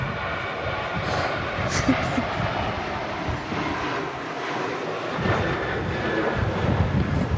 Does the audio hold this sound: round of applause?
no